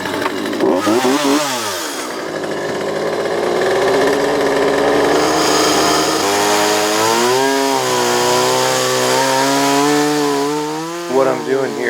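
A chainsaw bevels logs for an off-grid Alaska log cabin's short walls, running loud and close in one continuous stretch as its engine revs rise and fall.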